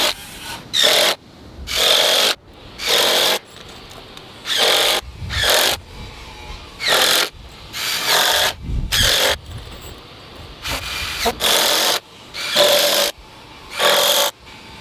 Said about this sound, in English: I'm gonna go back and put 1 3-inch screw into every board